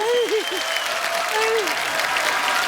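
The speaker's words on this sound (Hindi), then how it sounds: "जोरदार तालियां नानी की आंखों के लिए" Studio audience clapping at a comedy show, a broad, steady wash of applause throughout, with a voice speaking faintly over it at the start.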